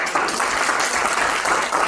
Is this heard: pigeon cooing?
no